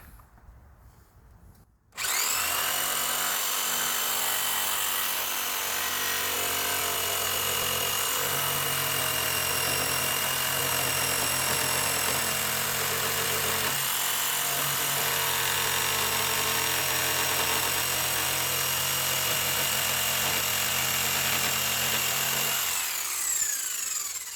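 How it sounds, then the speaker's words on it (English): After a brief quiet start, a jigsaw cuts through a wooden rafter for a shed build, its motor whining and blade buzzing steadily for about twenty seconds, close and loud, before winding down. "But I didn't bring that other saw, so I just do this with the jigsaw."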